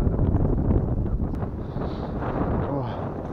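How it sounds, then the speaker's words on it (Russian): Strong wind blows across open water around a fishing boat during pike fishing, a loud continuous rumbling buffet close to the microphone for the whole stretch, with no voices. "Подутомил меня немножко ветер этот. Просто достал уже."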